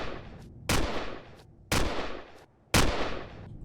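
Gunfire in the space survival game Empyrion Galactic Survival, three loud, evenly spaced heavy shots, each with a sharp onset and a long rumbling decay, close and with no voices.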